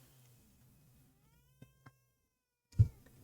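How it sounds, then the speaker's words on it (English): A house cat gives one short, loud meow near the end, after a near-silent room with a couple of faint soft knocks. "My cat is here."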